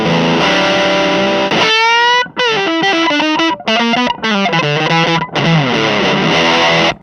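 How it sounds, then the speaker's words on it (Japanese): An electric guitar through a fuzz pedal with its sustain turned down plays short choppy notes and chords that cut off abruptly with a sputtering, broken-up edge, loud and close with brief gaps between phrases. "サスティンとかをこう下げていくと結構ブチブチ言うんだけど、それがねまたファズっぽくていい"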